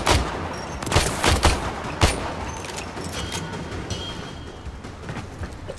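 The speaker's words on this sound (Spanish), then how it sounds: "A ver, disparo otra vez." Rapid bursts of gunfire from the sci-fi shooter game Warframe, several sharp volleys in the first two seconds followed by a steady rattle of fainter shots under dense game noise, no talk.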